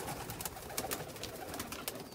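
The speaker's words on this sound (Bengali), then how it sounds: "কবুতর দেখেন," Omani show pigeons coo in a loft, a steady low murmur of overlapping coos with faint rustling, moderately loud and without talk.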